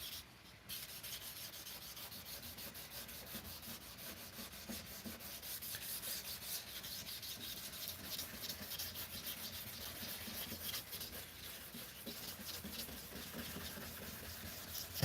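Red 2000-grit pads rub across a plastic headlight lens in a continuous, steady scrubbing hiss, close and fairly even in level throughout with no talk.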